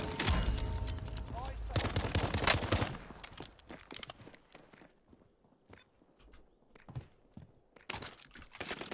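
Rapid PPSh submachine gun hipfire in a Call of Duty match, a dense loud burst for the first three seconds, then scattered shorter shots and footsteps. A voice talks over it.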